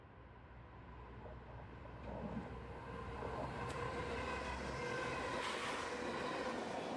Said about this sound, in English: A few minutes later, we have a northbound rounding the bend.